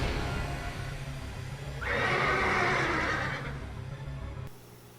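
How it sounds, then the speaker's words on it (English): A horse whinnies loudly from a Parasite Eve 2 video game, one sustained, prominent neigh in the middle of a low rumbling ambient backdrop, cutting off abruptly near the end. "Was that a frickin' horse?"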